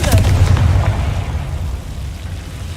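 A Confringo spell bursts in Hogwarts Legacy as one loud blast, its deep booming rumble fading slowly over the next few seconds.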